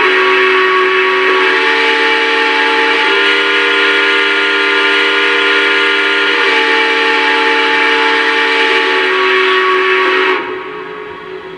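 A locomotive whistle sounds in a train simulator video game as one long, loud, steady multi-tone blast lasting about ten seconds. It cuts off abruptly, leaving a quieter background hum.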